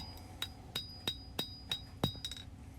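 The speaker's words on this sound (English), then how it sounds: "And then as I hammer in the divots that are made by the edge of the anvil, it pushes the steel out lengthwise." A blacksmith hammers hot steel on the edge of an anvil while drawing out a knife blade: about nine ringing metallic strikes in a steady rhythm, each with a bright clink, close and clear.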